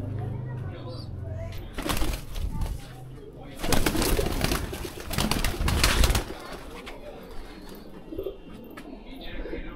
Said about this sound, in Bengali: একটা বাচ্চা এসছে পাঠা পায়রা